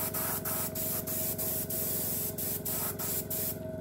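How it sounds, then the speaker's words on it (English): Undercoat is sprayed onto a model boat hull, a loud steady airbrush hiss that pulses in regular short passes roughly three times a second, then stops near the end. "just kind of finalise the undercoat on this"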